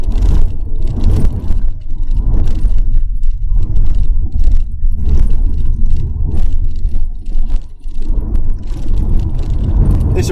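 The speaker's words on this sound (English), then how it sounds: "there's a few knocks and rattles and a slightly annoying rattle from this gear stick trim ring" A high-mileage Mazda RX7 FD idles with a low rumbling engine while the gear stick trim ring gives off intermittent light rattles and knocks, close inside the cabin.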